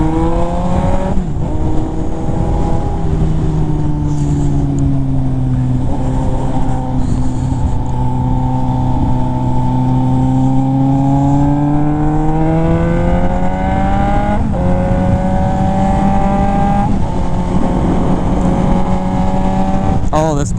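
A Suzuki GSX-S750Z motorcycle with what sounds like an aftermarket can exhaust revs while riding, its engine note sweeping up and down through gear changes, loud and close against steady wind rush.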